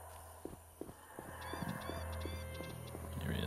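Birds taken for crows in The Witcher video game, a flock of honking, goose-like calls in quick irregular bursts, several overlapping at moderate distance over a low steady hum.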